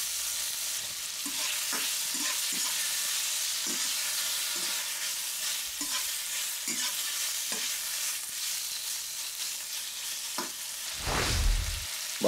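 Pork belly sears and sizzles steadily in a hot pan, with repeated clicks and scrapes as it is stirred and tossed, one louder scraping stir near the end.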